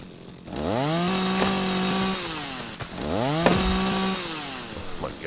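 Chainsaw revving through timber in the Rising World game, two long rising-and-holding whines from about one to two seconds and three to four seconds, loud and close with no talk.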